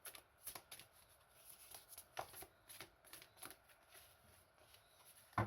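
Oracle cards are shuffled by hand up close, a quiet, irregular flutter of soft riffling and slapping card sounds repeating for several seconds.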